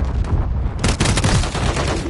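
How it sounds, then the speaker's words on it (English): Grenade launcher fire and explosions in Call of Duty: Modern Warfare 3, loud and dense, with sharp repeated blasts and rattling gunfire layered over constant game noise, heaviest from about the midpoint on. "Damn grenade launcher."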